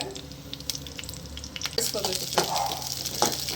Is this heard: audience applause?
no